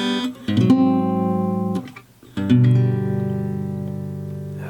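Slow fingerstyle guitar intro of the lullaby from Disney's Coco, in the 2018 Oscars live arrangement: two plucked chords, each ringing out long and sustained, with a brief dip in between.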